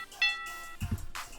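Bright bell tones ring out in a ratchet beat loop, a sharp struck chime followed by a low thumping hit and another shimmering bell stroke, played alone and fairly faint.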